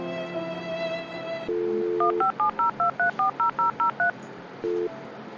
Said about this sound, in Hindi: हम चाची जगह फोन लगा के पूछा मैं।